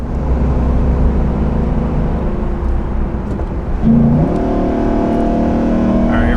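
Gas V8 engine of a 2021 Nissan Titan XD with a nine-speed transmission, towing up a 6% grade, droning steadily and loud, then pitching up as it accelerates partway through, with no talk.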